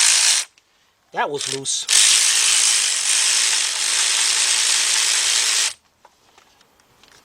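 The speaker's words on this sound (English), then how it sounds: "get our 13 millimeter deep, 3/8 drive cordless ratchet" A cordless 3/8-inch drive ratchet with a 13 mm deep socket loosens bolts on a Volkswagen Beetle engine during head gasket work, giving a loud, steady close-up buzzing whir that runs several seconds after a brief ratcheting burst, with a short spoken remark.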